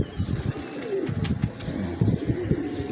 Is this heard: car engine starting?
no